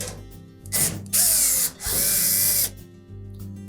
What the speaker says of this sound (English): you'll need to remove 2 screws located on the back edge of that top panel